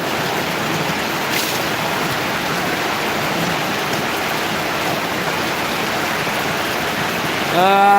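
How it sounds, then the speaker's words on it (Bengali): Heavy rain pours steadily, a dense, loud hiss throughout, with a brief rising tone near the end. "প্রচুর বৃষ্টি হচ্ছে এখানে"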